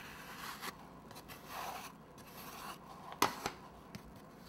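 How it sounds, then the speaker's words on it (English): A scraper drawn along the sides of a buttercream-covered cake, giving soft, faint scraping strokes with a few sharper scratchy scrapes toward the end. "Then you take your scraper, start on the sides, and you just scrape some of that buttercream off."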